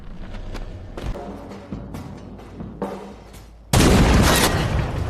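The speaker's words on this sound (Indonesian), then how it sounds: "Thomas berhasil menembak ke arah Yuki" Several sharp gunshots ring out in a ragged sequence in a film, then a sudden loud, sustained burst of heavy gunfire fills the end of the clip.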